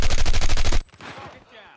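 Call of Duty automatic gunfire: a loud, rapid burst of shots lasting under a second, then a fading echo and faint trailing rattle.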